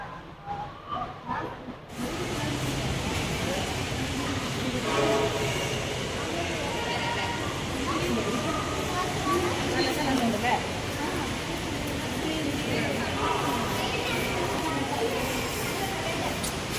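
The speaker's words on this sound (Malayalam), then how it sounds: "എറണാകുളം മെട്രോ സ്റ്റേഷനിൽ എത്തിയപ്പോൾ മെട്രോ പോകുന്ന കാഴ്ചയാണ് ഇപ്പോൾ കാണുന്നത്" Kochi metro train moving through Ernakulam metro station, a steady broad rushing rumble that swells and holds for many seconds after a brief quieter start, with people talking faintly in the background.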